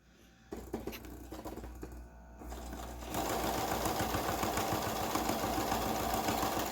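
A sewing machine stitching a straight seam starts with a few short bursts of whirring and clicking, then runs into a steady, fast, continuous hum that stays loud and close to the end.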